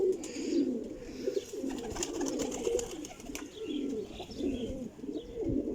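Old desi pigeons, a flock of flying pigeons, coo steadily and close by. Overlapping low throaty calls repeat in a continuous murmur with no voices.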